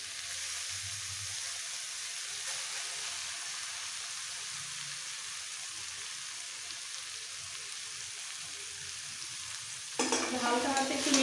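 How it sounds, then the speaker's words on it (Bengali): A spatula gently folds cooked rice into a spinach masala in a pan, a faint low sizzle with soft scraping throughout, rising into a louder, busier stir near the very end. "এইভাবে খুন্তি দিয়ে একটু মিক্স করে ফেলবো"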